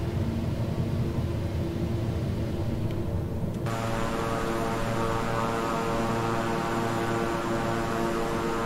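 Steady droning cockpit noise of a King Air 350i twin-engine turboprop in a flight simulator game, a constant hum with broadband roar, the tone shifting partway through as the throttle is pulled back.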